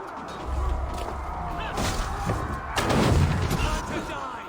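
Swivel gun fired at a wooden palisade in Assassin's Creed Valhalla, a couple of heavy booming shots with crashing impacts amid battle noise and raised voices.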